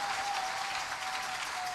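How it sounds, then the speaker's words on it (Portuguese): A church congregation applauds during a worship service, dense continuous clapping filling the room at an even level with a faint tonal hum beneath. "Aplauda ao Senhor"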